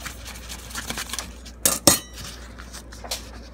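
Cutlery on a plate while a pan sausage stuffed with bullfrog meat is cut open: a few soft scrapes and taps, then two sharp metallic clinks close together, followed by quieter knife contacts.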